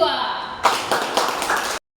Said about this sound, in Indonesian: Kita berikan tepuk tangan untuk kelompok 2.